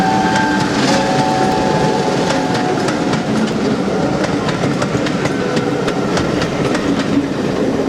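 A train rumbles past at close range with rhythmic clickety-clack of wheels on rail joints and a steady mechanical roar.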